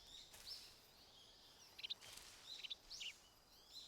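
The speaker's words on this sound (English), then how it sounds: "I hear a bird." A bird in Metal Gear Solid 3 gives a few faint, high chirps in scattered short bursts over quiet ambience, with no talking.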